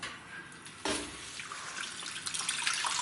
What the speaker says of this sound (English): And put water in there, because to make the au jus